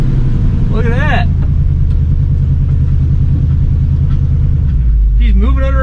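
An abandoned Ford Mustang rolls under its own power with a steady low engine rumble throughout, close and loud, while people talk over it.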